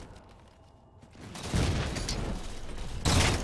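Battle rifle gunfire in the Halo 4 video game: a quiet start, then sustained bursts of shots from about a second and a half on, with a louder burst near the end and no talk.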